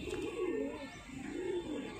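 A pair of domestic pigeons of the Mulla Ji breed coo up close, with low, rolling, throaty calls repeating steadily over two seconds.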